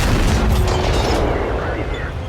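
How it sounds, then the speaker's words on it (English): A premium tank round slams into an enemy tank in World of Tanks on PS4, a loud heavy boom rolling into a sustained low rumble that slowly fades over a couple of seconds. "As you can see, the round penetrates"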